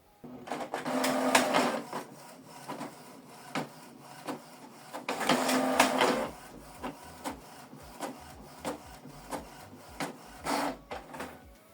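A Canon Pixma G3590 inkjet printer prints a single page, close and quiet, with repeated bursts of mechanical whirring and feeding clatter separated by short pauses.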